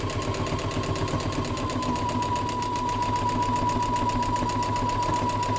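A sewing machine free-motion quilts through batting in a figure-eight pattern, giving a fast, even mechanical needle chatter that stays steady and close throughout, with no talking.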